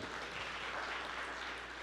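A church congregation applauds during a sermon, a steady, dense wash of clapping that holds at a moderate level for the whole stretch without breaks.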